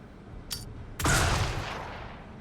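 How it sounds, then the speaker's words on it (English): Gunfire in the turn-based tactical game Xenonauts 2: a brief crack followed by a louder, sharper burst of shots that rings out and decays, alone without talk. "Shoot that gun."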